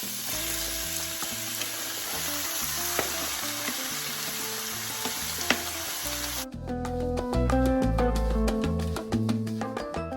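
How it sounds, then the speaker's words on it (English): Beef sears in a hot oiled pan with a loud, continuous sizzle that runs under rhythmic background music throughout. "So hot pan and oil, and now goes in the meat."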